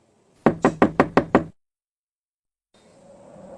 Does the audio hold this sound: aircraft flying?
no